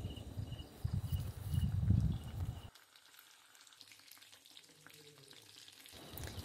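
Lote (Bombay duck) fish cutlets frying over medium heat: a loud, close sizzle for about three seconds, then a sudden drop to quiet low background.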